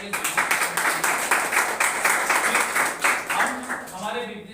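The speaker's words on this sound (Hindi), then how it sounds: "तो जोरदार में चौके पर जोरदार तालियां" Enthusiastic audience applause at a business seminar, many hands clapping in a steady dense wash for several seconds before thinning out, with a voice starting to talk at the close.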